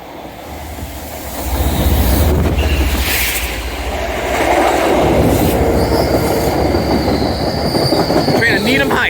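A commuter rail train bound for Needham Heights pulls into a station and brakes to a stop, a loud close rumble of wheels and rail clatter with brake squeal near the end, while a few people talk nearby.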